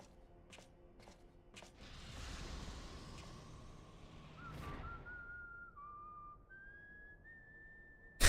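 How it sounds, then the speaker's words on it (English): A Final Fantasy XIV character whistles a tune alone, a clear, slightly wavering melody of sustained notes rising in pitch, following soft footsteps and faint ambient game noise. "He's whistling the song."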